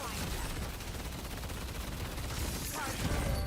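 Rapid gunfire from a video game sounds as a dense, continuous fusillade of crackling shots at moderate volume, steady throughout with a slight swell near the end.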